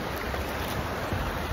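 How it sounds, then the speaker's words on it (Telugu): Sea waves at the Vizag floating bridge make a steady, broadband wash of surf close by, with some wind buffeting the microphone and no voices. "కెరటాలు చూస్తే వస్తున్నాయి, మస్తు వస్తున్నాయి కదా."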